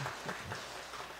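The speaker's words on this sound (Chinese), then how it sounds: "那我们也拍手，谢谢苏老师啊" A church congregation at a joint worship service claps hands in thanks to a visiting teacher, a brief, quiet patter of scattered clapping heard from a distance.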